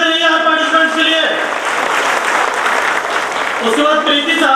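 Crowd applause rolls on through a Dr. Ambedkar Jayanti ceremony as participants are honoured, a broad steady wash of clapping with an announcer's amplified voice over it at the start and again at the end.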